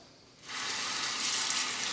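A tap is turned on and water streams steadily to rinse a straight razor, starting abruptly after a short quiet moment and continuing as a close, full gush.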